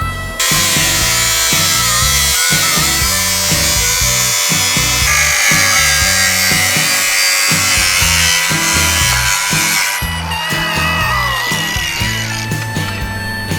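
A bronze thru-hull fitting is cut with a power tool that chatters and rattles loudly and steadily close by, its grinding buzz shifting in pitch partway through and continuing to the end without pause.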